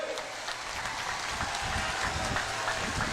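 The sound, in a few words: crowd applause at political rally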